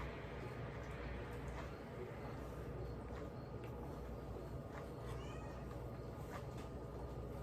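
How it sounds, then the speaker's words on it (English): A cat meows a few times in a home kitchen, the calls faint and intermittent over a steady background hum. "The cat woke up."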